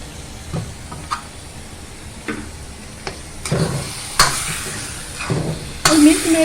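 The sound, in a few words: stirring and roasting carrot halwa with condensed milk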